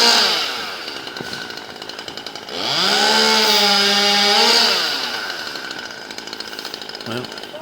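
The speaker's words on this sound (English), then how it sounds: "they're doing some tree work behind me" Chainsaw cutting during tree work outdoors, heard from some distance: a steady buzzing drone that rises into a loud revving whine in the middle before easing back.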